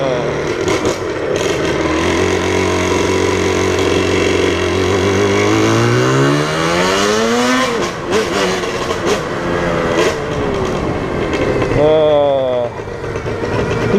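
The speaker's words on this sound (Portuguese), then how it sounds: "É uma moto original, escapamento original," An original Yamaha RD 350 motorcycle with its stock exhaust revs up and settles, the engine note climbing steadily and then dropping back to a rough idle, loud and close, with a voice talking over it.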